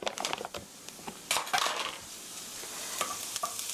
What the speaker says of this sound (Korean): 밀가루가 노릇노릇하게 될 때까지 볶아주세요.